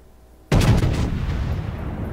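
Heavy naval guns of the battleship North Carolina firing in the World of Warships game, a deep booming salvo with rolling rumble that lingers, loud and without talk.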